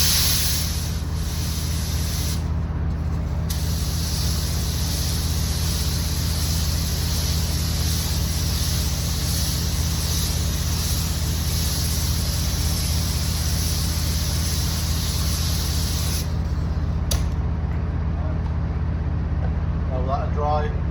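Spray gun laying a light dust coat of paint on a vehicle body repair, a loud continuous hiss running nearly unbroken with only brief pauses.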